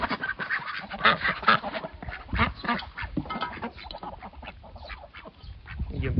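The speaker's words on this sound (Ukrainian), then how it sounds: "Качки так скучили за рязкою, що вже пів відра з'їли." Several domestic ducks quacking while eating duckweed from a bucket, close and loud, with overlapping irregular quacks and honks continuing throughout.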